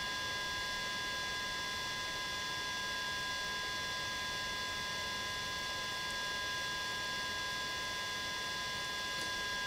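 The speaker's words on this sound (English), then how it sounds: "I know you guys can hear the fan in the background." A computer fan hums steadily in the background during a firmware update of a DJI Phantom 4 Pro drone, a faint constant whir with a thin tonal whine and no talking.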